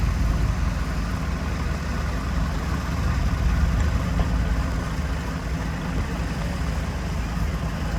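A vintage tractor with a 6-cylinder, 200 cubic inch engine and 4-speed transmission rumbles steadily nearby at a threshermen's show parade, a continuous loud low drone with no breaks.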